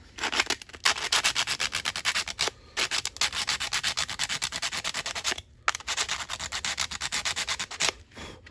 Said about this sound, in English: rough up all the surfaces that might come into contact with the adhesive.